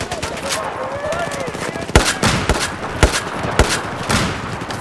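Gunfire in the video game Battlefield 4 during a naval tanker match, with sharp separate shots cracking roughly every half second over a steady noisy battle bed, with faint voice chat underneath.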